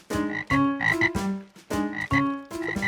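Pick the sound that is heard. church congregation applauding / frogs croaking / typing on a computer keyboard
frogs croaking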